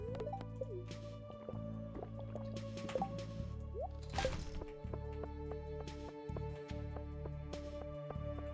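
Watering crops in Stardew Valley: soft repeated drippy, squishy splashes of a watering can over steady game music, no voices.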